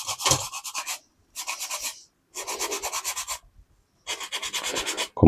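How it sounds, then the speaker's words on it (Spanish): Sandpaper rubs a handmade fly fishing popper in four bursts of quick back-and-forth strokes, each a close, rasping scratch separated by brief pauses. "luego simplemente con la lija pues lo vamos a ir afinando"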